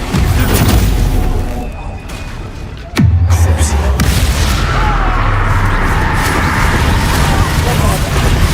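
A loud, booming blast from the Expulso spell in Hogwarts Legacy hits with a sharp thump midway, then a sustained rumbling roar follows amid dense game ambience.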